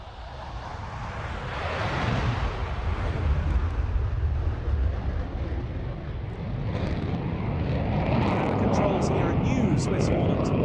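A Swiss Air Force McDonnell Douglas FA-18C Hornet rolls for takeoff at the RAF Waddington airshow, its jet roar building into a loud, sustained rumble with wind buffeting, while a commentator talks over it.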